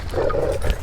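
An unleashed dog gives a short, close, throaty whine or growl lasting under a second, loud and alone.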